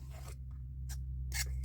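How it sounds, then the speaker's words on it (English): Scissors trim a paper template along a score line, giving a few short, crisp snips separated by brief pauses, close and fairly quiet, with no one talking. "And I'm going to go ahead and trim this all the way up."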